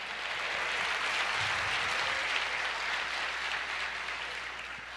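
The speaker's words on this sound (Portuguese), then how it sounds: "Você pode dar uma salva de palmas para Jesus?" A church congregation claps steadily for Jesus during a Portuguese-language sermon, a dense, even wash of many hands that holds at moderate volume for the whole stretch with no voices rising above it.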